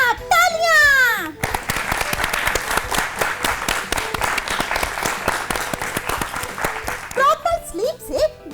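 Children in a lively school quiz show break into sustained applause after a correct answer, dense rapid clapping with young voices and cheering mixed in, bracketed by a bright musical sting.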